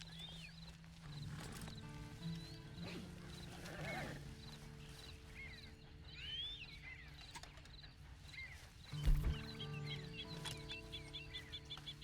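A horse whinnies briefly amid Red Dead Redemption 2 Online game ambience, with steady tonal music and a few clip-clop hoofbeats, plus a louder thump near the end.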